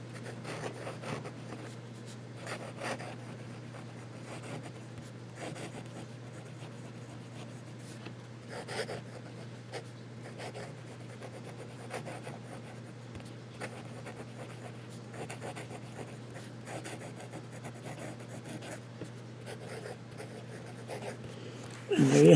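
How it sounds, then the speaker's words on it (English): A Pelikan Culture fountain pen scratches quickly across paper in a continuous, fast run of soft, close strokes over a low steady hum, with no voices. "And some fast writing."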